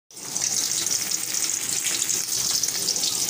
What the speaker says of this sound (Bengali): এখন আমি মাছ ভাজিটা বসিয়ে দিলাম